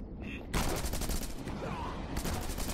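Rapid machine gun fire in the co-op video game Rocketbirds Hardboiled Chicken, loud dense bursts running almost continuously with a brief lull, close and heavy, with game sounds layered in.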